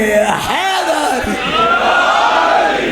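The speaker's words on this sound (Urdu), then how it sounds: "مل کے نعرے حیدر" A large religious gathering roars back a slogan in unison, a loud, sustained mass shout of voices rising together and holding for a few seconds.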